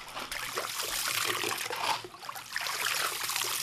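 Steady rushing trickle of water carrying valley sand over silver during the sand-polishing stage of crafting a traditional Korean ornamental knife, a continuous close wash with slight splashy fluctuations.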